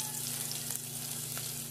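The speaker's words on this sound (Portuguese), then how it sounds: "Primeiro vou colocar aqui, ó, pra ir fritando. Umas linguiçinhas dessas aqui," Thin calabresa sausages frying in lard in a pan, a steady close sizzle and crackle with a low hum underneath, no talking.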